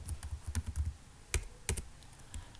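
C code being typed on a computer keyboard: a quick run of soft key taps followed by a couple of sharper, louder strokes, close up and quiet, with no talk.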